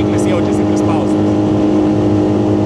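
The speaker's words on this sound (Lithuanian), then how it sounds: "Kaip atsigavo variklis." A 20 HP Tohatsu outboard motor pushes a 2025 Whaly 380 boat, giving a loud, steady engine drone that holds throughout with slight rises in pitch, with voices faintly audible over it.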